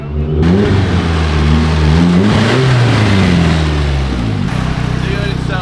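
The newly swapped Nissan KA 2.4-liter engine in a car on its first test drive revs loudly up and down in rising and falling sweeps, then settles to a steadier drone, with people talking over it.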